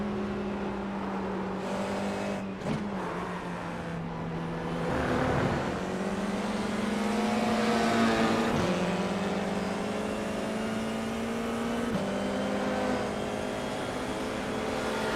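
An FIA F4 race car engine in the iRacing simulator holds a steady high drone through upshifts and brief lifts, rising in pitch between each change, loud and up close with no voices.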